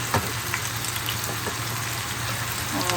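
Garlic drops into hot oil alongside red chillies in a pan, giving a steady, close crackling sizzle that stays even throughout with faint pops.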